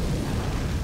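A grenade blast in Left 4 Dead 2 on expert mode, a loud, dense, low rumbling explosion filling the whole brief moment.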